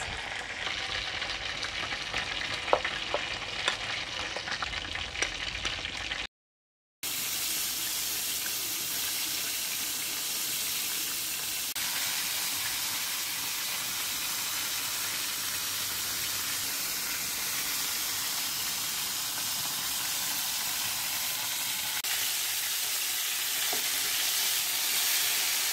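Fish simmering in boiling milk in a home kitchen gives a steady bubbling, sizzling hiss with a faint watery rush. It runs continuously with no voices, broken only by a short silent gap near the start.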